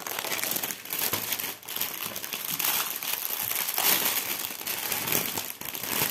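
A cross-stitch kit being taken out of its plastic packaging, with continuous close crinkling and crackling of the plastic, loud and busy throughout with no voices.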